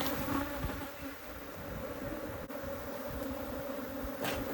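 Africanized honey bees swarm and buzz around an opened hive, a thick, steady drone of many insects close by, swelling and easing slightly but never stopping.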